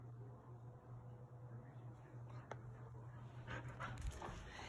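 A Blue Heeler dog pants softly with faint whimpers over a low background hum, quiet and fairly close, with a few brief sharper sounds near the end.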